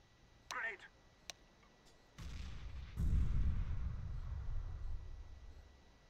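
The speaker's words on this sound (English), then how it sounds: "Grenade." A grenade detonates in a tactical shooter match, a sudden low-heavy blast around the three-second mark that rumbles and decays, preceded by a softer thud and a sharp click, with a voice speaking briefly earlier.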